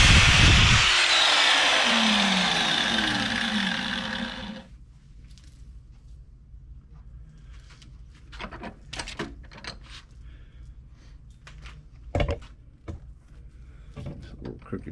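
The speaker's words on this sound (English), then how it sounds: "We'll cut it in half with the cutoff." A cutoff tool whines loudly through a braided hose line for about four seconds, then stops, followed by scattered clicks and handling knocks from the workbench.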